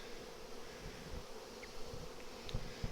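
Bees from an opened three-deep nuc hive drone in a steady low hum, with a few individual insects buzzing closer past the microphone now and then.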